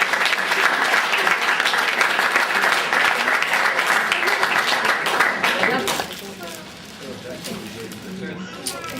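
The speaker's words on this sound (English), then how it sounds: "Round of applause for the parents" Wedding guests give a loud round of applause for the parents during a best man's speech, a thick, sustained roar of clapping that drops away after about six seconds, leaving murmurs and a voice.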